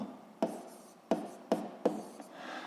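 A pen writes Hooke's law on a surface, four short distinct scratchy strokes at roughly half-second intervals, close and fairly quiet, with no talking.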